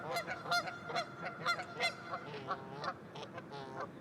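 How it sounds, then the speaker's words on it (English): A goose near a lifting bridge honks repeatedly in a rapid, uneven series of nasal calls, moderately close and without speech. "So anyway, hello Goose."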